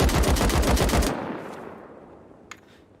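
Automatic weapon fire in the game Rust, shot into the air: a fast loud burst of about ten rounds lasting a second, then a fading echo tail and one faint click.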